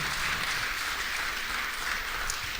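A church congregation applauds steadily and loudly, a dense wash of clapping that holds evenly from start to finish with no voices rising above it.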